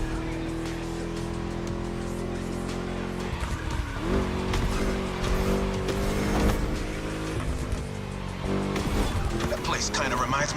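Racing V8 engine in The Crew Motorfest, a loud, steady guttural roar with gear-change dips and tire squeal near the end, running continuously under a speaking voice.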